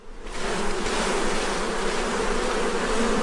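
Honey bees buzz as a dense, steady drone, loud and close, a thick insect hum that swells in at the start and holds without pause.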